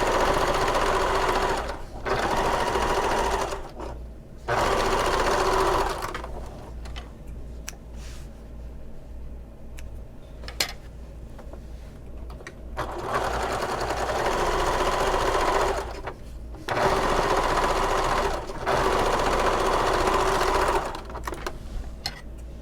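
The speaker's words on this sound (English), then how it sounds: "I am going to stitch across the top and bottom about 1/4 inch from the edge to top stitch it." Sewing machine top stitching through fabric and foam for a bag with a lengthened stitch, running in several steady rhythmic bursts separated by pauses with quieter handling sounds, close and clear, with no talk.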